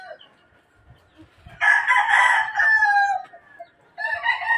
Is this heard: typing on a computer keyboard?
no